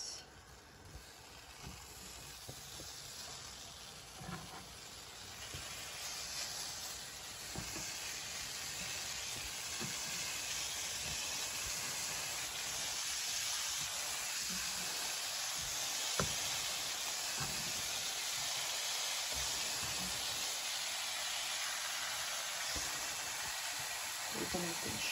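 Banana oatmeal pancakes frying in a pan, a faint, steady sizzle and hiss lasting about twenty-five seconds with occasional soft clinks, quiet and close.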